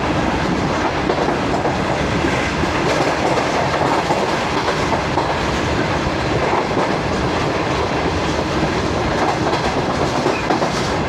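The Shalimar Express runs at speed past Mirpur Mathelo, a loud, continuous rolling roar with rhythmic clickety-clack of wheels over rail joints, heard from on board throughout.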